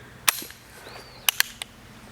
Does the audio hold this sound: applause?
no